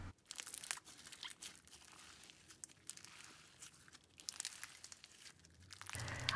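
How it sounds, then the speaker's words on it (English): Crunchy slime made with Kawaii Slime Company supplies is stretched close up, giving a quiet run of crackling, crinkling pops and tearing snaps that carries on steadily throughout. "if you stretch out your slime like this, you can get some nice crunch action going on"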